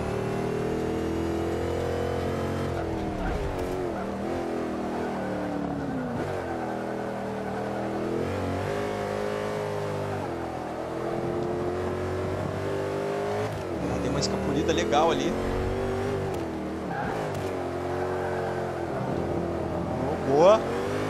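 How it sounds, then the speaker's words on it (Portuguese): A tuned Mercedes SLR engine in Forza Motorsport 5 drones and revs steadily, its pitch rising and falling through gear changes, with someone speaking briefly over it. "Vou ficar quietinho pra vocês ouvirem o som do motor um pouco."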